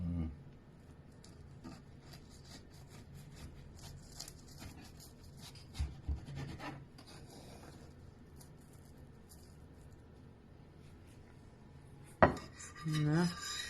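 A knife cuts through a baked frangipane galette on a plate, with steady scraping and light clinks of cutlery and crockery, a louder knock near the end, and faint voices in the background.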